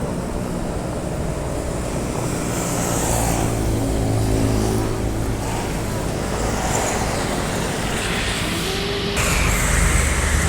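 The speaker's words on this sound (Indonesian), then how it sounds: "Nah, ini bus dari Sumbar baru masuk Palembang." A long-distance bus from West Sumatra with a Laksana body rolls into Palembang, its steady low engine rumble filling the street amid continuous traffic noise, swelling slightly as it nears.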